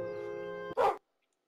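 A dog barks once in the Roblox video game: a short, loud burst that follows a sustained electronic tone and then drops into silence.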